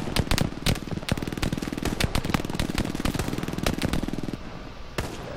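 Rapid automatic gunfire from Hell Let Loose, dense bursts of sharp cracks close by, rattling almost continuously and broken by a few heavier single shots, then briefly thinning out near the end.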